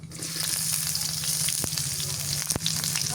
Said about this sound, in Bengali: পেঁয়াজ কুচি দিয়ে দিই এবার